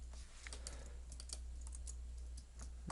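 Clicky keystrokes on a computer keyboard while using Windows 1.01, arriving in uneven bursts of close, sharp taps over a steady low hum, with no talking.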